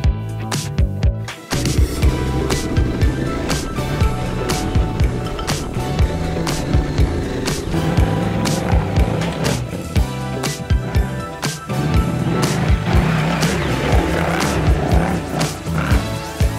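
A motorcycle riding dirt trails roars loudly and continuously up close, its engine note rising and falling through gear changes, with wind buffeting and bumps from the rough ground.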